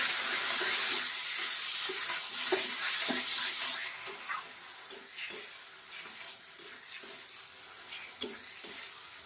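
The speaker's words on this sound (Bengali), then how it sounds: "দেখো ভাজা ভাজা করতে করতে অনেকটাই শুকনো হয়ে গেছে" Cauliflower pieces for a mash fry in a pan with a steady, moderately loud sizzle, while regular spoon stirs tap and scrape through it; the sizzle softens slightly midway and a sharper scrape stands out near the end, with no voices.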